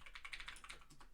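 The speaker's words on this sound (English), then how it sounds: "as I'm typing this deck list in" Quiet, rapid typing on a computer keyboard as a deck list is entered, a brisk run of light clicking keystrokes with no talking.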